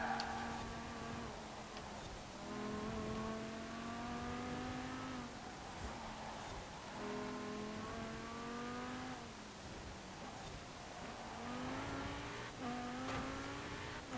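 Supercar engine in the Forza Horizon 4 racing game, revving up through the gears in repeated rising sweeps with short drops at each shift, steady and moderately quiet, no talking.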